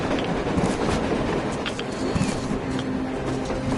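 In the video game Metro Exodus, a train rumbles along with a dense rattling, clattering roar that holds steady for a few seconds, with faint voices in the background.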